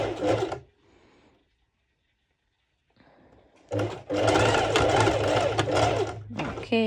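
A sewing machine stitches slowly along the edge of a sporty top, its motor humming in bursts near the mic: a short run, a pause with faint handling, then a long steady run.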